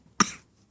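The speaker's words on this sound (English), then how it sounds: "are you coughing?" A young boy gives a single short fake cough, close and sharp, quickly fading in a quiet room.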